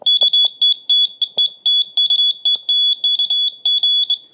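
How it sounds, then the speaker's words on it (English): A shrill electric buzzer wired to a J-38 telegraph key sounds in rapid on-off bursts of short and longer tones, like Morse code keying, loud and close with clicks from the key. "when I press down on the key here, it creates a short, which makes the buzzer go off."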